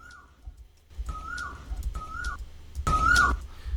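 A whistled bird call sample used in a glitchy house music track repeats three times in short rising-falling chirps, the last louder and denser, amid sparse percussive sounds.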